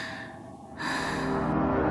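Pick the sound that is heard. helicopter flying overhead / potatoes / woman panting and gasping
woman panting and gasping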